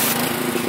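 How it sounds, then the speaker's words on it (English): A petrol power washer engine runs steadily nearby during car pressure-washing, a loud, buzzing drone lasting under a second with no voices. "I'm gonna see what this does to it with the power washer"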